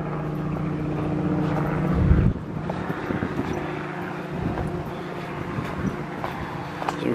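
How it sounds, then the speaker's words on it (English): A helicopter drones steadily overhead above a trail walk between Chalfont & Latimer and Chesham, its rotor hum clear and continuous with a slight shift partway through, fairly loud and without speech. "for some reason that bloody helicopter won't piss off."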